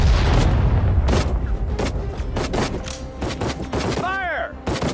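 Infantry rifle and machine-gun fire in the Pacific War battle of Saipan in Sudden Strike 4, a rapid series of sharp, loud shots and booming bursts, some overlapping, with brief voice callouts mixed in.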